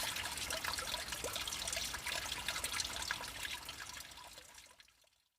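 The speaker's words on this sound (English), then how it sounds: "It features running water, which involves a runnel, a canal, pumps and pipes." Water runs steadily through a garden pond runnel fed by pumps and pipes, a continuous bright trickling and splashing that fills the scene, then fades out at the end.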